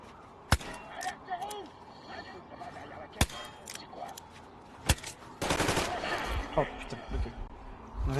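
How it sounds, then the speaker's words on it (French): A single-shot pistol fired in the video game Metro Exodus, a few sharp separate cracks spaced seconds apart, with a rougher burst of noise midway and a voice talking over parts of it. "c'est un pistolet coup à coup, nul à chier"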